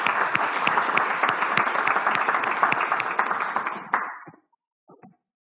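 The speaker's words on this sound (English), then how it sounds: "Let's give a round of applause, ladies and gentlemen." Audience applause at a TEDx magic show, lively crowd clapping with distinct sharp claps that holds for about four seconds, then tapers off abruptly into near silence with a couple of stray claps.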